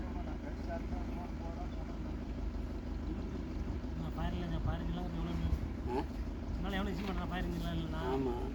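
A tractor engine drones at a steady low pitch during a firefighters' rescue of a cow from a deep well, running continuously beneath people talking nearby.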